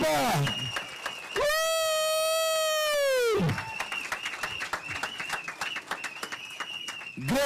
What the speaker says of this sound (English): Please, let's give a big round of applause.